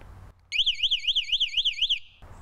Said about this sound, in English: you get the little key fob here so you can arm and disarm the alarm. It is super loud, crazy loud.